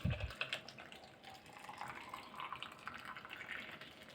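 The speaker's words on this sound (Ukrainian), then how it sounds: "Далі кожну баночку ми заливаємо окропом" Boiling water pours in a soft, steady stream into a glass jar, faint and close, with a light gurgling splash as it fills.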